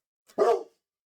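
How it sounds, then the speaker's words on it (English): A pet dog gives a single short bark, preceded by a faint little huff, close to the microphone and otherwise quiet. "Excuse my dog being a barky boy."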